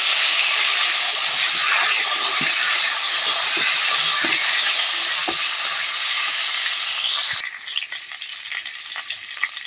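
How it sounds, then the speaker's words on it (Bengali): Boiled potatoes fry in a wok with a loud, dense sizzle and hiss, stirred now and then with faint scrapes, and the sizzle drops sharply near the end. "এবার সিদ্ধ করা আলু কড়াইতে দিয়ে আমি ভালো করে ভেজে নেব।"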